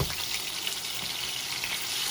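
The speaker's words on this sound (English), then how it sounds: "we're going to let this pan sear for another 5 minutes on this side" Lollipop lamb chops searing in a hot pan, a steady loud sizzle and crackle of fat close up, with no talking.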